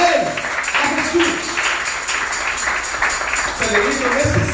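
A church congregation claps for the Lord during a Spanish-language sermon on the Samaritan woman of John 4, rhythmic clapping running throughout beneath a preacher's voice, with brief phrases of talk over the applause.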